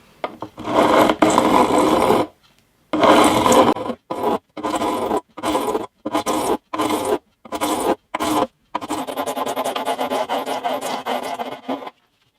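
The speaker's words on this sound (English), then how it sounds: "I'm going to just take the edge of the frets off with this file." A metal file rasps across the fret edges of a vintage steel-string guitar, each firm stroke a clear scrape. The strokes come close and loud, first in long passes, then as a run of short, separate ones, ending in a steady stretch of filing.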